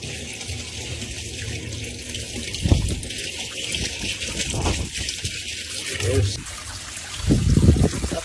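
Engine cylinder heads are lowered into a homemade hot tank of cleaning liquid, a continuous close sloshing and trickling of water with several heavier splashing gurgles as the parts go in.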